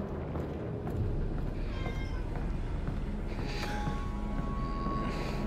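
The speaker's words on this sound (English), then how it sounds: "I'm trying to pet my cat so she'll be a little bit more happier" A pet cat meows repeatedly while being petted, its drawn-out, rising calls sounding close over a steady background hum.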